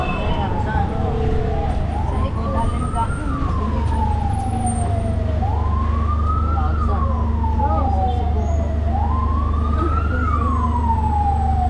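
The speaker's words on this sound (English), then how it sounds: "We are hearing sirens" A fire truck siren wails, rising and falling in long, repeated sweeps, loud and steady over a constant low engine rumble from traffic nearby on Boracay Island, Philippines.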